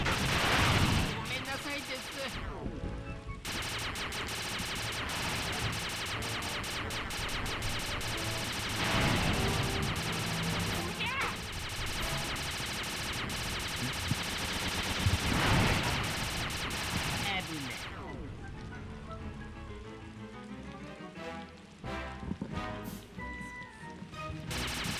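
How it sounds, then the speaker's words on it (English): Sustained video game gunfire in Sly 2 fills the air as bombers are shot down. Dense rattling bursts run almost continuously under a busy game soundscape, then thin out into scattered sharp shots and clicks near the end. "We have to take down some bombers that are trying to shoot down this blimp."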